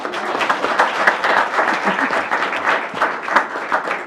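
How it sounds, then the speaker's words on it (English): A room full of people claps steadily and loudly for several seconds, dense and continuous, with a few voices faintly mixed in. "Applause."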